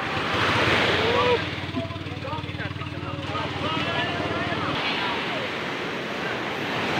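Sea waves washing in as a constant broad surf roar, buffeted by wind, with a low droning hum through the middle and people talking nearby.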